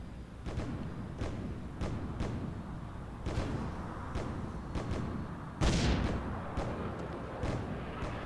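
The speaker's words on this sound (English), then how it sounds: "let's see how the cannon does here" In Defense Grid, cannon towers fire a series of booming thuds at uneven intervals, with one heavier blast near the end over a low battle rumble.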